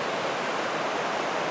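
The Pemigewasset River rushes beneath a footbridge in the White Mountains, a steady, close wash of flowing water with no voices.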